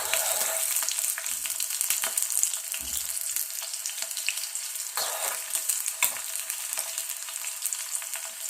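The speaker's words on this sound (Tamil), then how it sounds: "நல்லா வதக்குங்க" Small onions and dried chillies frying in hot coconut oil for a Sri Lankan prawn curry, giving a bright, steady close sizzle with a few stirring knocks.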